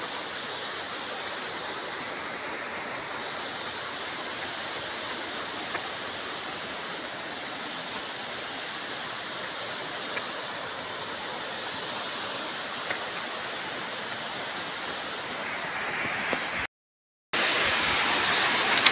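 Kaijoda waterfall in Keonjhar, among iron-rich rocks, pours as a steady, loud broadband roar of falling water that continues unbroken, with one brief dropout near the end.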